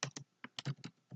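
Typing on a computer keyboard, a quick burst of about eight crisp, close key presses at an uneven rhythm, with no talking.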